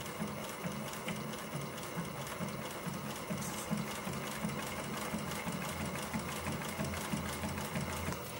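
Sewing machine stitching a leather crossbody purse strap, a steady fast mechanical whir with rapid needle chatter running continuously at close range, no talk.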